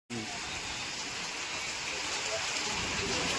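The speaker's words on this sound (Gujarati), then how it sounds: "વરસાદ ચાલુ છે, આપણી ગાડીઓ વરસાદમાં પલળે છે।" Steady rain pouring on parked vehicles at a fair near a temple, a constant broadband hiss of drops close by, fairly faint, with no voices.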